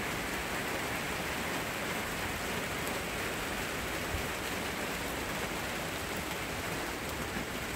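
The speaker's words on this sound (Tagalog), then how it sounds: "Grabe ang patak ng ulan." Heavy rain pours steadily on a wet morning in the Netherlands, a dense, unbroken hiss of drops striking the ground nearby with no break and no voices.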